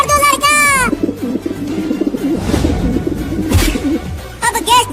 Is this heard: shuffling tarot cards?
no